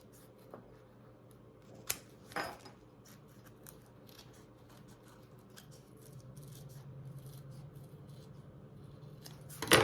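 Scissors trimming a curve in fabric while a travel belt is being sewn, giving a few crisp snips spread out over quiet handling noise, close and fairly soft, with a louder rustle at the end.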